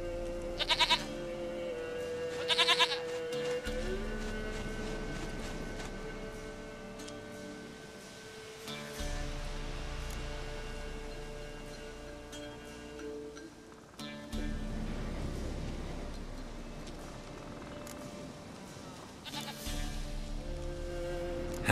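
A goat bleats twice in The Witcher 3, two short nasal cries near the start. Game music and ambience then carry on steadily without voices.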